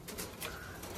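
Pigeons in a backyard loft give a short, soft cooing call, close and fairly quiet, with no talk over it.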